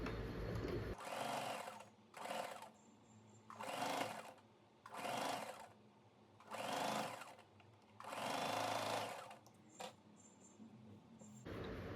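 A sewing machine stitches the side seams of a deep-neck blouse in six or so close, loud bursts of whirring, separated by short pauses. There is no talking.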